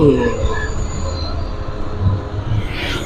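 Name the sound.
train passing near railway station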